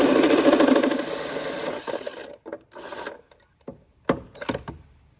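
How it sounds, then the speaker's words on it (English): A right angle drill with a 1.5 inch hole saw cutting through metal in a car's engine bay, a loud grinding whir that runs steadily, then stops and restarts in short bursts. "we are now going to go over to the other side and drill through with the right angle drill"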